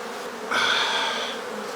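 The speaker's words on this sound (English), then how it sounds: "Lots of bees" A dense, steady buzzing of many honeybees at an open hive swells in loudly after a moment of quieter hum, continuing close by with no voices.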